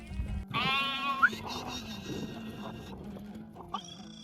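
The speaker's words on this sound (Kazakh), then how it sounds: "Чеги, мына ешкі" A goat bleats loudly nearby in a long wavering call, followed by quieter background noise and another short bleat near the end.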